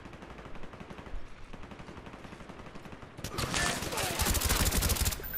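Gunfire rattles in rapid bursts in the Call of Duty Black Ops video game, growing louder and denser in the latter half, with players talking faintly underneath.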